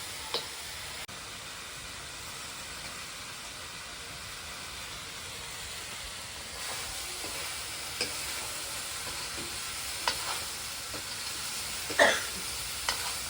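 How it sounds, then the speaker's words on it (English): Onions and chilies stir-fried in a pan for a pork and mustard greens gruel, a faint, even sizzle throughout with a few scattered clinks and scrapes of stirring toward the end, and no voices. "And just stir it well until the onions are translucent and your chilies are cooked."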